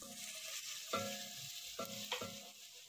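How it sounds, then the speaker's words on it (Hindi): Ginger garlic paste frying in hot cooking oil in a pot, a steady close sizzle with a few sharp spoon scrapes and clanks as it is stirred, no voices. "उसे अच्छे से गर्म करके अपना जिंजर गार्लिक पेस्ट ऐड करेंगे जिंजर गार्लिक पेस्ट ऐड करने के बाद उसे अच्छे से पकाएंगे पिंक होने तक"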